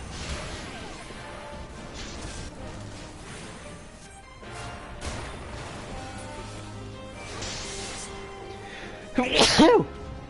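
A single sharp sneeze bursts out near the end, close and loud, over a steady bed of game music and background sound.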